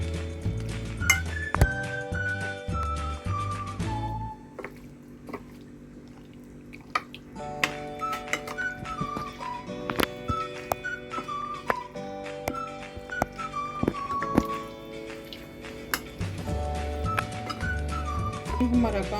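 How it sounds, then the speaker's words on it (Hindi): A spoon mixes yogurt, red chili, dried coriander and cumin into raw chicken meat, with light clinks of metal on the bowl scattered through. Melodic background music plays throughout. "गोश्त में मिक्स कर दूंगी।"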